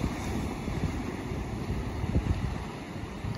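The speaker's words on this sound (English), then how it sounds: "tune in to the sound of the ocean's waves." Ocean waves wash in a steady, soft roar of surf with wind noise, continuous and moderately quiet with no voices.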